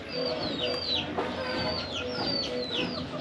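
Several chickens cluck and chirp steadily at close range, with scattered higher squawks over a busy farmyard background.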